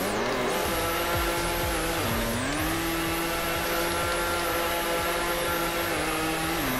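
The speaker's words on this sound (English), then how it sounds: "I haven't drifted on this game in a long time." A car drifts in the Roblox game Car Dealership Tycoon, its engine droning steadily with tonal pitch shifts as tires squeal continuously, loud and close, with no voices.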